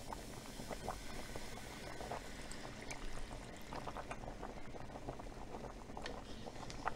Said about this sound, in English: Now I'm going to put all the liquid back in.